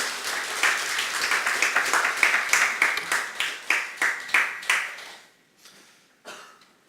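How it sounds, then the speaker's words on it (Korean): A church congregation gives a welcoming round of applause during a Sunday morning service, a rhythmic run of clapping that thins out and stops, followed by a few scattered claps. "다시 한번 박수로 환영하겠습니다"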